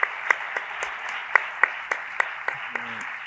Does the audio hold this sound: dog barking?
no